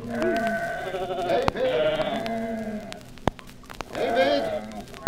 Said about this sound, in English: the sheep wandered about the hillside